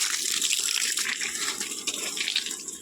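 Water runs from a tap in a steady, close, rushing stream with a bright splashing hiss and slight fluctuations, no voices.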